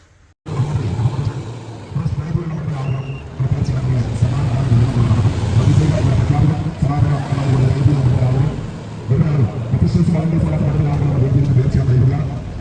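A car engine revs loudly and steadily, its low droning rumble swelling and dipping over about twelve seconds, with voices mixed in beneath it.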